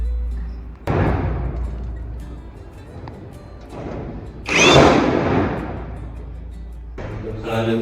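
A power drill drives bolts into the frame of a two-door wardrobe in bursts of whirring and rattling, with a louder, sharper stretch in the middle, while a person talks over it.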